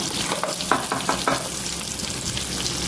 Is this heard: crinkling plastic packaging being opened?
no